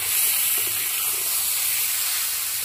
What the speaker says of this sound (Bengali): ঢাকনাটা খুলে দেখে নেব।